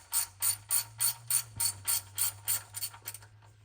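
Ratchet wrench cracking loose the oil drain plug on a Ford 6.7L Powerstroke diesel motorhome, with about a dozen evenly spaced, close ratcheting clicks over a low engine hum, slowing near the end.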